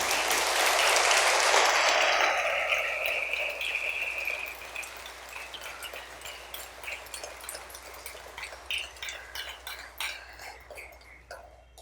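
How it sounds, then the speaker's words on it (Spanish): Church congregation applauding the Lord during a sermon: dense, loud clapping that swells for the first two seconds, then thins into scattered, fading claps. "dar un aplauso al Señor"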